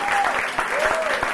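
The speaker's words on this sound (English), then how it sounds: "Let's give them another round of applause." A concert audience at a music school lunch hour concert applauds after a viola duet, a short burst of steady clapping with a voice speaking over it.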